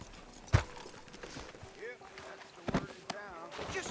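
Horse hooves clip-clop at a walk in the Western video game Red Dead Redemption 2, with soft irregular thuds and tack jingle under ongoing character dialogue and game ambience.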